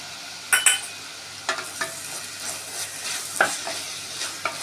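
A spoon scrapes and stirs through mutton offal gravy sizzling in a pan right after garam masala goes in, with several distinct scraping strokes over a steady low fry.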